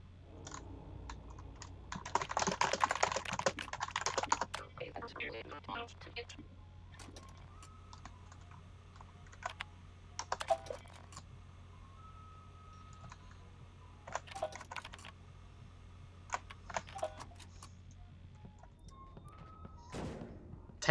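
Typing on a computer keyboard while playing the game Event[0], with bursts of rapid clicking keys spread over a steady low hum, some loud clusters and quieter gaps between.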